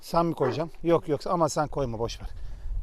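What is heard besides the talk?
None of the usual background noises is heard.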